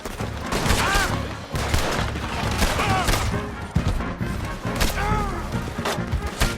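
Several loud gunshot volleys crack out in bursts at irregular intervals, close and sharp over a busy background of action sounds.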